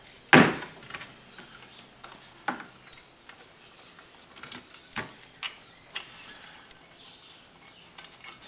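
Metallic ticks and clicks from undoing two 8mm bolts on the fuel filter bracket of a Ford Focus 1.8 TDCi, starting with one sharp clack and then scattered faint taps of the tool, with no talk.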